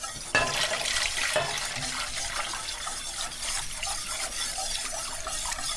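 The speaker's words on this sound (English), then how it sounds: "I'm going to add a half of a jar of filtered water" Filtered water poured from a jar into a pot of cream of chicken mushroom soup with rice, a steady close splashing and gurgling stream with a brief clink at the start.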